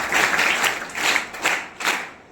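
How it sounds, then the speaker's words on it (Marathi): An audience at a Rotary installation event held at a school claps loudly in a few surging waves of applause, with no talk over it. "त्यांच्या एकदा जोरदार टाळ्या वाजवून आपण अभिनंदन करूया"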